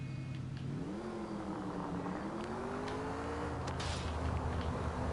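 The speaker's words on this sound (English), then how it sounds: "Ooh, I like the sound of this car." A steady car engine in the video game L.A. Noire hums and slowly rises in pitch as it accelerates, constant and fairly close, with no talking.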